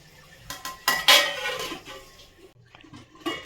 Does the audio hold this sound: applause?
no